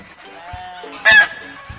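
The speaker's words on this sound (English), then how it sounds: "Goose." A goose honks once, a short loud burst standing out from a quieter bed of farmyard fowl calls and clucking that runs through the rest of the moment.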